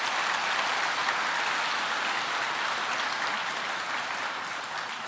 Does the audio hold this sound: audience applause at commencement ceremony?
yes